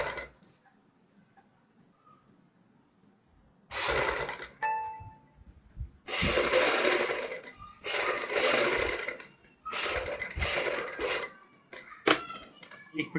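A sewing machine stitches piping strips onto a neckline in several loud bursts of rapid stitching, separated by short pauses after a quiet opening.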